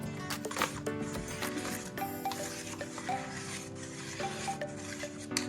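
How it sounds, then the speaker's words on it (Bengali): Idli batter stirred and thinned with water and baking soda in a bowl, a steady soft rubbing and scraping that runs through the whole stretch under a faint tonal background, with no talking. "এটাতে আরেকটু জল মিশিয়ে নেব আর বেকিং সোডাটা মিশিয়ে দেব"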